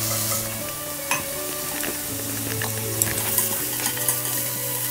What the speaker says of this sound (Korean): 수분을 반드시 제거한 상태로 기름에 볶아주세요